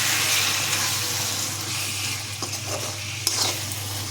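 Paneer potato masala being stirred in a pan after biryani spice, rose water and kewra water go in, a steady soft sizzle with scraping and stirring sounds and a few sharper clinks toward the end.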